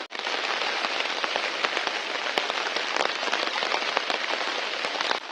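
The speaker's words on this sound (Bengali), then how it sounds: "খুব বৃষ্টি পড়ছে।" Heavy rain pours down in a dense, steady hiss of drops striking surfaces. It continues without a break from start to finish, with no voices.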